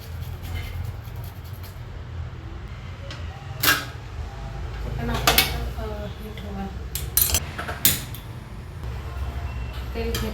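Bananas sliced for Kerala-style banana chips, with sharp slicing clicks and clatters at irregular intervals over a low background hum, close and fairly loud.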